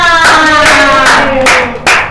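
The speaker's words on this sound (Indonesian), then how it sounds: "tepuk tangan untuk kita semua" A group of people clap together in a classroom during a primary-school teaching practice lesson, a dense burst of hand claps that dips briefly and then comes back, close and loud, with harmonic tones of voices or music sounding faintly underneath.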